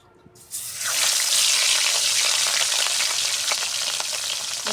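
Rohu fish pieces hit hot oil in a wok and burst into a loud, continuous sizzle after a brief quiet start, crackling steadily up close with no talking.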